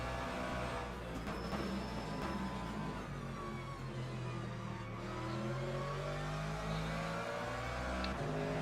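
In the Le Mans Ultimate racing game, an LMP prototype race car roars past, a sustained engine whine rising and falling over a steady drone of the player's own car, loud and continuous.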